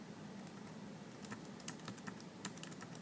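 Cursor keys tapped on a computer keyboard, a string of light, irregular clicks over a faint steady room hiss, with no talking.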